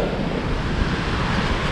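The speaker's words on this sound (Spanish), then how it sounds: "Esa es la cascada, mirá." Steady broadband roar of the Condor Machay waterfall in Ecuador heard from a high viewpoint, constant and loud, with wind buffeting the microphone.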